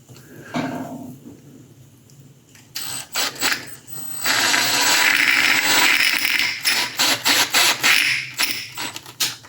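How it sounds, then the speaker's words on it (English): A handheld drill bites into a cast resin figure part, giving a dry rattling, crackling chatter as the resin chips; short bursts at first, then a sustained stretch of grinding with uneven pulses, close and fairly loud. "So you hear that cracking noise? That's me going too fast and the resin wanting to chip out."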